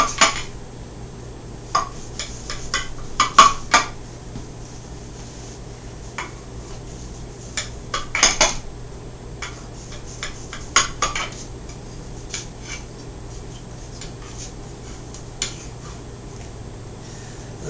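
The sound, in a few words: knife cutting chorizo and habanero cornbread in pan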